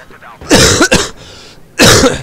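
A person coughs twice, loud and close, during commentary over Battlefield 4 PC gameplay, with a short burst, a quick follow-up and another strong cough after a brief pause.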